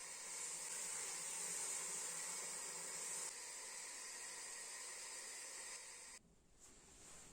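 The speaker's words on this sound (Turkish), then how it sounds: "Şimdi tekrar soğuk su dolduruyoruz." Cold tap water runs into a cooking pot holding meat and bones for bone broth, a soft steady rushing hiss that cuts off near the end; faint and with no talking.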